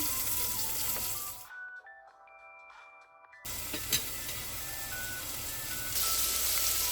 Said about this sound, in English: Press in your onions. Let them saute for some time until they're golden brown.